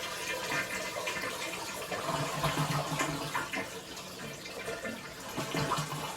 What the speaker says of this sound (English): flush all of the water out of the tank